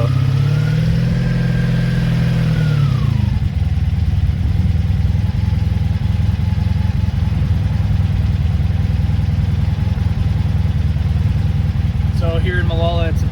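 A 1983 Honda Magna V45 VF750C motorcycle engine, fresh battery fitted, runs steadily nearby at idle, with a brief higher rev settling into a constant low rumble, and faint chirps near the end.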